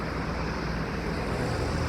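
Steady broadband rushing airflow from an 18-inch solar-powered electric fan, heard from about four to five meters away as a continuous, fairly loud whoosh with no talking.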